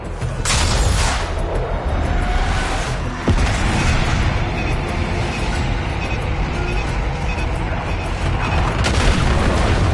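Air strike bomb blasts in the Black Ops 6 campaign, a dense ongoing barrage of deep booms and crackling gunfire filling the whole stretch, with sharper hits near the start and around a few seconds in.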